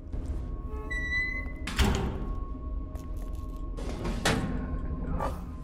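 A cabinet opens in The Evil Within horror game with a couple of sliding thunks and thuds over a low, droning ambient background.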